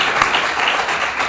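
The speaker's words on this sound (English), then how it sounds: "let's give all of our candidates a round of applause." Audience at a school board candidate forum gives a round of applause, a steady, dense wash of clapping heard briefly.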